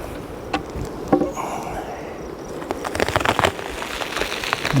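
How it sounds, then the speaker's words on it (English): Honey bees swarm at a hive, a close, steady buzzing hum with scattered clicks and bumps of hive handling throughout. "they're boiling with bees."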